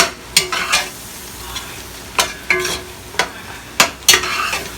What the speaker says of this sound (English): we're gonna be on this constantly right here, stirring this, so we don't get no stick on the bottom